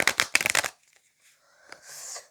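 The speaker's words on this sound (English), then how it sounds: "Let's shuffle the cards" Tarot cards are riffled in a quick, crisp burst of rapid flutters up close, followed by softer card handling and brief rustles.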